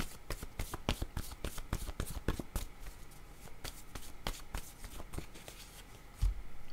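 A deck of playing cards is shuffled again and again during a card game, giving dense riffling bursts and sharp snaps close by with no speech.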